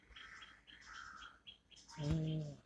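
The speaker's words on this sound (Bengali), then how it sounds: "আজকে পাখিরা ডাকছে" Birds chirp and call at dawn, several short tweeting phrases at moderate distance, followed by a louder, more tonal song burst near the end, with no talking.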